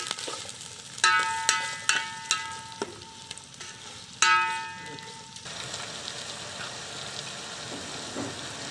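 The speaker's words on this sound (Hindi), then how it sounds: "इसमें हम 4 से 5 अदद प्याज डाल देंगे और इसको थोड़ा हिला लेंगे" Four to five onions go into hot oil in a pan while a spoon stirs them, with soft sizzling throughout and several sharp metallic clinks of the spoon against the pan early on, then a steadier low frying hiss.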